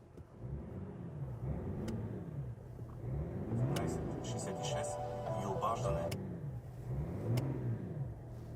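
A BMW E53 diesel engine idling steadily with a low, rhythmic rumble and slight pulsing swells, heard close under someone talking throughout.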